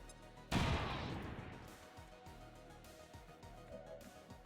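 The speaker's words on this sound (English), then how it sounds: "we're gonna throw a regular grenade to shred the trooper and then follow up with an AP" A regular grenade thrown in XCOM 2 Long War bursts with one sudden loud blast, a broad crack that rolls into a long decaying rumble with scattered debris and low rumbles trailing after.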